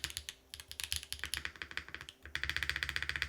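Rapid typing on a Luminkey Lumino75 mechanical keyboard, a quick run of close, crisp key clacks with a brief pause before a faster, louder burst near the end.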